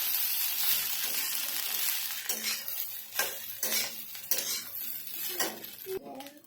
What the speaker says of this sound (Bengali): ভাতটা দিয়ে খুব ভালো করে নেড়ে চেড়ে এর সাথে মিশিয়ে নেব।